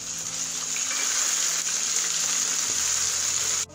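Ginger-garlic paste frying with onions in oil for a white chicken korma, a steady close sizzle filling the whole stretch without pause and dropping off abruptly near the end.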